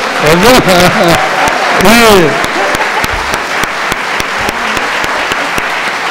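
Applause from an audience at a solemn legislative session marking Housing Day, steady clapping running under a voice that speaks over it, with sharp individual claps standing out.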